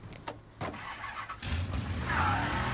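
Car engine in the video game Mafia Definitive Edition starting up and settling into a steady mid-pitched idle, preceded by a few short clicks and thumps, close and moderately loud with no talk.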